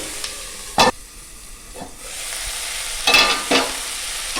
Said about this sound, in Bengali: দেখুন মশলাগুলো ভাজা হয়ে গেছে